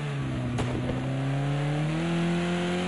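A touring race car accelerates hard on the Ruapuna circuit, its engine loud and close with a steadily rising drone and harmonics climbing through the gears.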